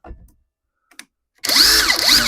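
A Grosser GID 230N cordless impact wrench runs at its first speed. A few small clicks and taps come first, then the motor starts with a loud, high whirring whine that holds steady to the end.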